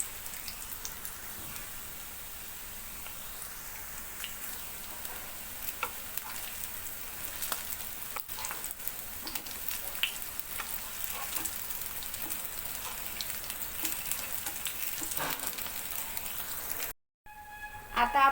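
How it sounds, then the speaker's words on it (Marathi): Aloo tikki patties shallow frying in hot oil, giving a steady, moderately quiet sizzle and crackle that runs almost without a break and cuts out briefly near the end. "टिक्कीला आपल्याला शॅलो फ्रायच करायचा आहे।"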